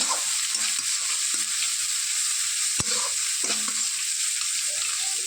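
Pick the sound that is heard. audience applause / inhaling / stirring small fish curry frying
stirring small fish curry frying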